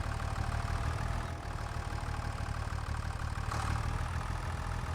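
A tractor engine idles steadily in Farming Simulator 25, a low, even mechanical drone with a faint knocking pulse, close and constant with no talk.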